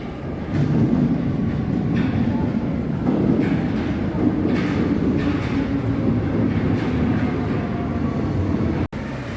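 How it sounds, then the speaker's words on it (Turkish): A metro train arriving at a Paris station rumbles and roars steadily close by, with rattling wheel noise and rising mechanical whine, then cuts off abruptly near the end. "Şimdi trenimiz gelecek ve gideceğiz."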